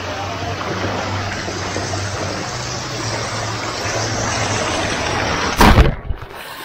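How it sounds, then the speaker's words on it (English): Steady rushing water flows through a resort lazy river and kids' water area, a broad continuous wash that sits close and fairly loud, with a brief louder splash and bump near the end. "this is a kid section with a lazy river on the other side"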